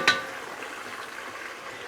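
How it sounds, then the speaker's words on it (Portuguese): Chicken frying in a pan, with a soft, steady sizzle running throughout at low level and brief sharper clinks of utensil against pan at the start and end. "enquanto o meu frango está aqui fritando"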